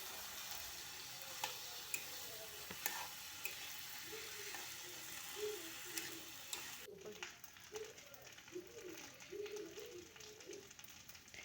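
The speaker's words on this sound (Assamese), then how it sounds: "চাউলখিনি এতিয়া 5 মিনিটৰ কাৰণে মই ভাজি লওঁ" Soaked joha rice frying in a kadai, a steady low sizzle with soft scraping stirs, moderately close, mixed with faint background sounds and occasional clicks.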